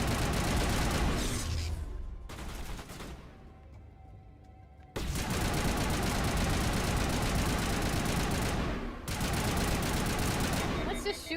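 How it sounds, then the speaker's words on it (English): Sustained automatic gunfire in the video game Mass Effect Legendary Edition on PS5, rapid dense bursts hammering at a wall, loud and near, broken by a couple of brief pauses. "Let's just shoot a wall a bunch."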